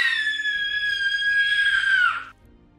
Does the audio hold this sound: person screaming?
yes